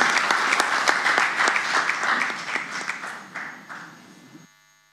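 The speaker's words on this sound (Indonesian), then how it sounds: "Kita berikan tepuk tangan yang meriah." Audience at an Indonesian political event breaks into loud, sustained applause with dense clapping that gradually thins and fades out.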